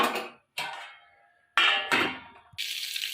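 Greens being stirred in a cooking pot, a few distinct metallic clanks and scrapes of a utensil against the pot, close and separated by short pauses.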